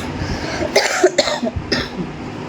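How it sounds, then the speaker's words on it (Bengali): A person coughs several times in quick bursts, close and fairly loud, with a throaty rasp between coughs. "সরি, এই কাশিটা কমছে না"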